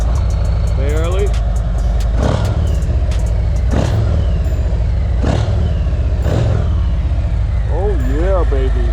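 A Harley-Davidson motorcycle engine idles with a deep, loud rumble, lifting in several short revs from quick throttle taps, spaced a second or so apart, while someone talks over it.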